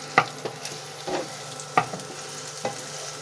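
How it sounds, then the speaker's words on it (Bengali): Onions and chillies frying in a pan on an induction hob, a soft steady sizzle punctuated by several sharp knocks and scrapes of a stirring spoon, close and fairly quiet, no voices. "এভাবে সুন্দর করে নেড়ে নিতে হবে।"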